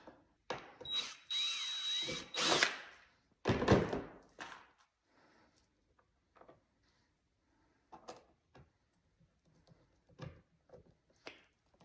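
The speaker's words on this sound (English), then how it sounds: "Essentially what I like to do is drill it out, put one screw in, and then work my way away from that screw." Power drill driving a screw into a plastic turbo intake vent on a 2022 Xtreme Air Vents Gen 4 install, several close bursts of whirring near the start, then scattered clicks and knocks of handling afterward.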